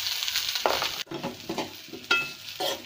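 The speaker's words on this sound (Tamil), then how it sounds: "இந்த கொலக்கட்டை ஃபுல்லாக இதில் சேர்த்துக்கிடுவாங்க" Kozhukattai dumplings and greens sauté in a pan, with sizzling frying and a spoon scraping and stirring in several close, uneven strokes.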